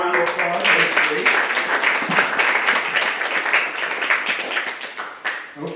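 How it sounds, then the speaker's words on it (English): Applause at a historical society monthly membership meeting, a crowd clapping steadily and fairly loud, tapering slightly toward the end with a voice briefly audible at the start. "Let's give a round of applause"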